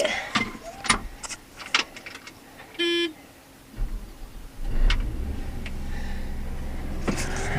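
A combine harvester's engine cranks and catches after a few scattered clicks and a short beep, then settles into a steady low rumble that holds to the end, with no talk over it.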